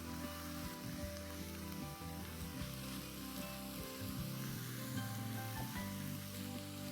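Steady, dense sizzle of a stir-fry with freshly cracked black pepper and light soy sauce in a hot pan, loud and continuous throughout, with no one speaking.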